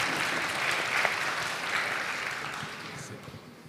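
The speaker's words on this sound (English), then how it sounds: "Here, applause for the running microphone." A conference audience gives a brief round of applause at a talk on testing tools, a steady dense patter of clapping that fades slightly toward the end.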